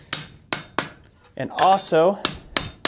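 A blacksmith hammers the toe of a forge-welded scroll, giving sharp, ringing metallic blows in an irregular rhythm, with someone talking briefly between strikes.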